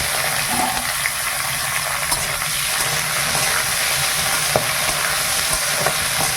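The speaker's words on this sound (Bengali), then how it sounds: "তেলটা গরম হয়ে গেছে, আর চিচিঙ্গাটা দিয়ে দিলাম।" Salted snake gourd pieces frying in hot oil give a loud, dense, continuous sizzle and crackle close up, with occasional small pops and clinks over the steady hiss.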